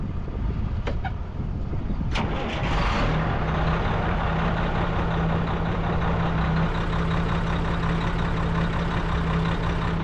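Pickup truck engine running in a steady loud rumble with a low constant hum, close by, after a few sharp clicks and knocks near the start; no one speaks.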